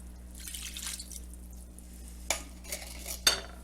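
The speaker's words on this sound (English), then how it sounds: "Let's stir that in." Coconut milk is stirred into a dish cooking in a crockpot, making faint liquid swishes and drips with a couple of sharp utensil clinks against the pot.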